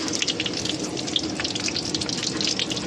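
Panch phoron and kalonji seeds crackle and sizzle in hot oil in a pan, a dense, even frying hiss with tiny pops throughout, close and steady, no voices.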